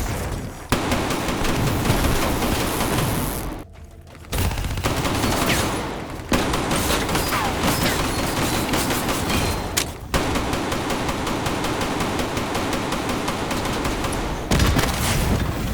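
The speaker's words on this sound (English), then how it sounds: "The Haymaker just shreds everything." Haymaker shotgun blasting nonstop in a first-person shooter video game, a loud dense barrage of rapid gunfire with only a few brief gaps, close and dominant throughout, no speech.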